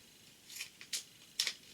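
A few quick snips of scissors cutting paper, close and soft, three short crisp bursts over a quiet background.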